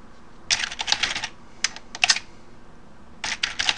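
Keys clack on a computer keyboard as an email address is entered on a trading platform, in three quick bursts of close, crisp typing separated by short pauses, with no voices.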